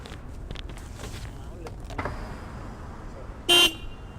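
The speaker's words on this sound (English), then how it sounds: "I already plugged in the car horn" A car horn fitted to a 2017 BMW F700GS motorcycle gives one short, sharp honk near the end, loud against quiet rustling and background noise.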